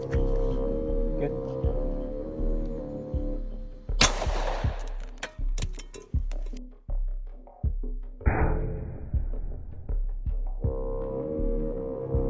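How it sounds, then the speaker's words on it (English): Super velocity solid copper .45 ACP rounds fired at a steel helmet, a series of about eight sharp, loud gunshots spaced irregularly over a low hum, with brief ringing after some impacts. "Moving on to super velocity solid copper 45 ACP rounds"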